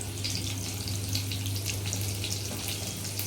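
Chopped green chilies sauté in a pan, giving a steady, close, watery hiss and crackle that continues without pause under a low constant hum.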